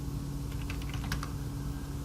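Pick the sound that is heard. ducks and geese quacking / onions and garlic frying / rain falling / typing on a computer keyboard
typing on a computer keyboard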